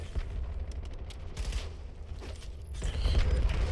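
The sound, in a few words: gunfire and reloading in a video game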